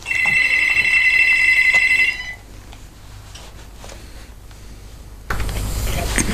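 A telephone rings loud and steady in a radio studio for about two seconds as an incoming call arrives, then stops, leaving quiet room tone and then a burst of broadband noise.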